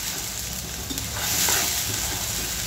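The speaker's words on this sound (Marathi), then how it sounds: "छानपैकी आपल्याला तेलात भाजायचं आहे।" Ground masala frying in hot oil for egg curry while being stirred, a loud close sizzle with scraping stirring strokes that swells slightly midway, with no talk.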